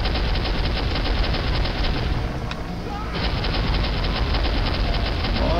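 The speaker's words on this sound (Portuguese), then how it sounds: "Quem é que tá atirando em mim, pô?" Dense, continuous gunfire from the video game Soldier of Fortune roars loudly and without letup, with a brief dip midway before the shooting resumes at full intensity.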